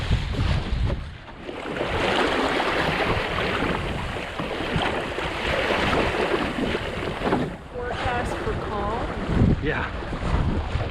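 A sailboat running in fresh wind, with steady rushing wind and water noise, some hull and wave wash throughout, and voices talking briefly over it.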